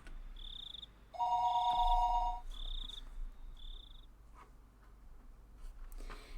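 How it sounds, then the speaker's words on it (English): A telephone rings in a quiet room, giving a few short electronic trills with brief gaps, fairly clear and alone with no voices, in an animated Japanese horror mystery set in a village. "the phone began to ring again"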